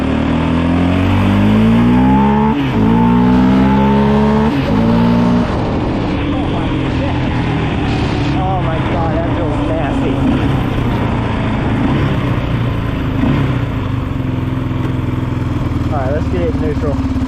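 Yamaha Raptor 700R ATV from 2006 with a new plug wire, its engine revving loud and close, then cutting out and stumbling unevenly, with voices talking over it.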